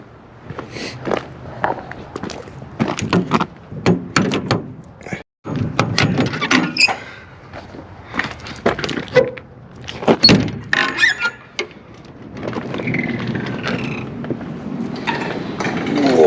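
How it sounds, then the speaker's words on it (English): Rear hatch door of a 24-foot enclosed trailer being opened, a series of close metallic clunks, latch rattles and creaks with scraping movement and a few footsteps, loud and irregular with no talking. "I'm going to open up through the rear, so there's actually a little bit of light in there."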